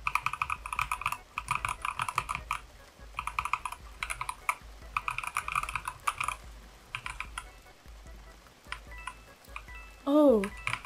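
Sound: computer keyboard typing

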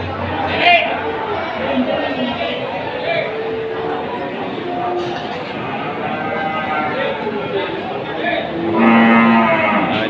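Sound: cattle mooing at market

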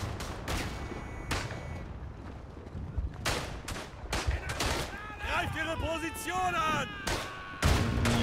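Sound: machine gun fire in the video game Verdun

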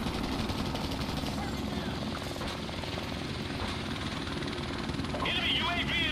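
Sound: helicopter in video game Modern Warfare Remastered

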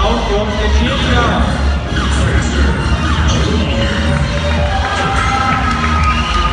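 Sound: crowd applause and cheering

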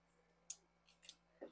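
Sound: scissors cutting macramé cord

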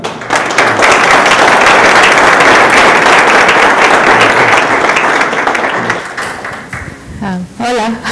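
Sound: audience applause for the speaker

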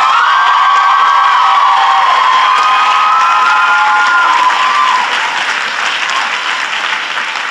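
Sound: graduation audience applause

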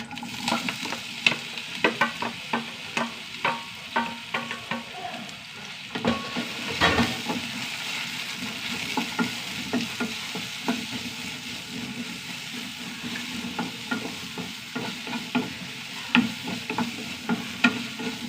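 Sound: chopped banana frying and being stirred in ghee in a pan

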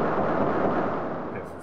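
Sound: rapid gunfire from a video game

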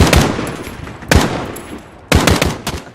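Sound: gunfire in video game Call of Duty Modern Warfare

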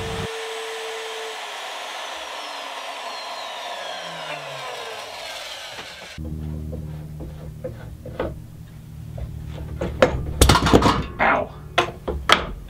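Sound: router cutting shallow recess in guitar body with template

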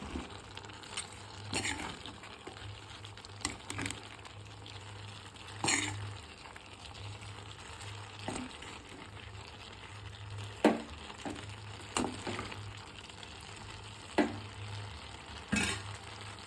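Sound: stirring cabbage stir-fry in frying pan

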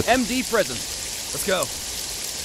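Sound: heavy rain at night in video game Jagged Alliance 3

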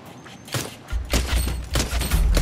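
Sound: pistol gunfire in a video game

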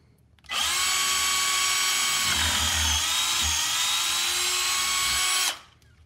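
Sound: power drill drilling out a hole in anchor hardware

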